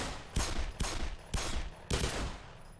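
Gunfire in Black Mesa aimed at a head crab: four loud, evenly spaced shots, each with a short ringing tail, spaced roughly half a second apart with no talking.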